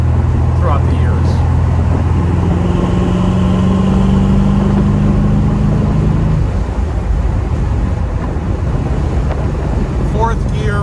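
A 1978 Chevrolet Corvette cruises in fourth gear at about 70 mph and 3,000 RPM with the T-tops off and the windows down. A loud, steady engine drone blends with road and wind roar, and the engine note shifts slightly partway through.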